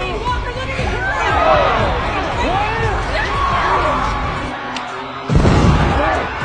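A crowd of people screaming and shouting in a film scene, a dense roar of many voices throughout, briefly dipping then swelling back loud.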